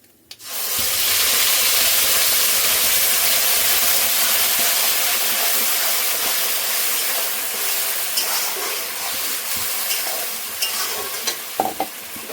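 Bay leaf and cumin seeds spluttering in hot oil left from frying potatoes, a steady loud sizzle with faint stirring scrapes, close and continuous with no voices.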